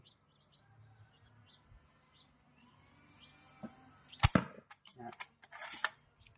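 A slingshot gun fires at a target: a quiet rising whiz, then a single sharp snap of impact followed by a few scattered knocks and rattles.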